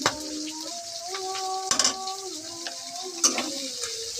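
Onions and green chillies fry with already-fried prawns while being stirred, giving a steady sizzle broken by clinks of the spoon against the pan, with faint tonal chirps in the background.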